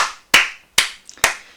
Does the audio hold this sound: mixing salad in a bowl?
no